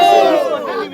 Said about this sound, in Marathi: निश्चितच या ठिकाणी जल्लोष होतोय।